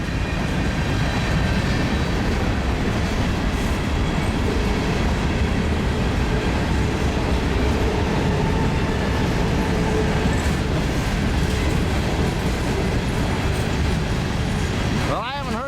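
A long BNSF grain train rolls steadily past at close range, a continuous loud rumble of wheels and wagons with faint clatter, ending in a brief squeal of wheels on rail.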